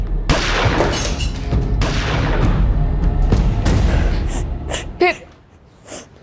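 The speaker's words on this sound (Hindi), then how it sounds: "फिर कुछ सेकंड्स के बाद गोली चलने की आवाज आई" Several sharp gunshot bangs burst through a loud, noisy scene in a Hindi crime drama, followed by a quieter stretch with a couple of brief squeaky cries.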